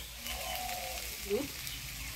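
Boiled chana dal and slit green chillies frying in a pan, giving a steady, close sizzling hiss that runs the whole moment, with a brief louder stir midway.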